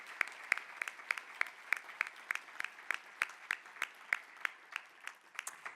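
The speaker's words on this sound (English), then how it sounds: "Please join me in recognizing Joneka with a round of applause." An audience at a 2019 DSP of the Year awards presentation applauds, a steady stretch of clapping with sharp individual claps standing out, moderately distant and fairly faint.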